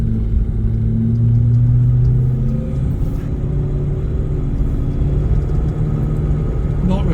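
A steady, deep engine rumble fills the cabin of a 1991 Range Rover Classic as it builds speed, loud and continuous with a low droning tone throughout.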